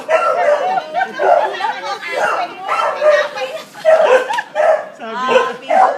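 A small dog yips and barks in short bursts while people chatter excitedly nearby at a surprise birthday celebration.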